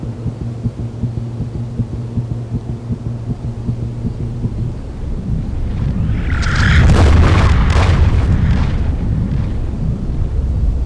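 A large explosion in the No One Lives Forever video game erupts midway with a deep booming blast and crackling debris, following a low rhythmic throbbing hum, the rumble lingering loudly to the end.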